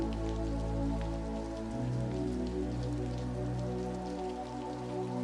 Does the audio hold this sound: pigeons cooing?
no